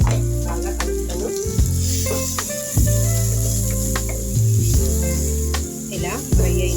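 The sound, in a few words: pieces frying in oil in a pan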